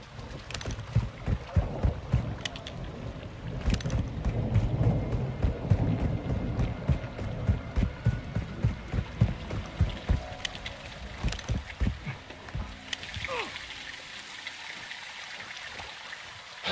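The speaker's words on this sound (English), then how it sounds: "It's raining fucking hard." Heavy rain pours in Modern Warfare 2, a dense steady hiss with sharp crackles and low rumbles of thunder, close and enveloping, with no talk over it.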